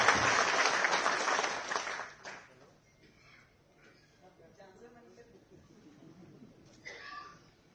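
Loud audience applause at a formal public event in Delhi, a dense burst of clapping for about two seconds that quickly fades, followed by a quieter stretch with a few scattered claps and faint voices.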